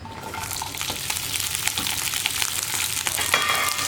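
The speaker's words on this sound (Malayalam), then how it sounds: "ഈ വെളിച്ചെണ്ണയിലേക്ക് നമ്മൾ കട്ട് ചെയ്ത് വെച്ചിരിക്കുന്ന വെണ്ടയ്ക്ക ചേർത്ത് കൊടുക്കാം." Cut okra sizzles in hot coconut oil in a pan, a steady dense crackle with occasional stirring scrapes and small pops, close and moderately loud with no voices.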